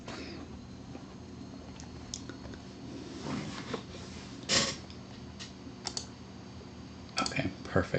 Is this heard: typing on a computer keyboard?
yes